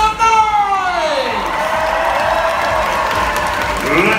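A rodeo crowd at a saddle bronc riding event at the Indiana State Fair applauds and cheers loudly in a dense, sustained roar, with an announcer's voice carrying over it.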